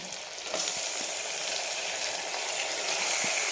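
Loud, steady sizzling of washed, unmarinated mutton frying in hot oil, with a few soft knocks of a utensil against the pan.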